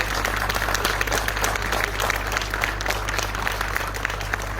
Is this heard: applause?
yes